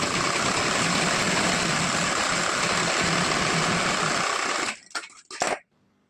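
Sewing machine running steadily while stitching a folded half-inch hem along the side of a blouse, a loud continuous whir that stops near the end, followed by a few brief clicks and handling sounds.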